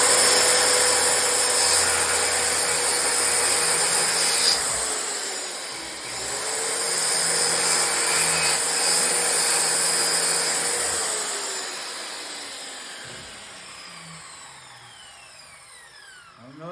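Circular saw cutting through wood, a steady loud whining buzz that runs nearly continuously across several passes, dipping briefly between cuts before winding down and stopping near the end.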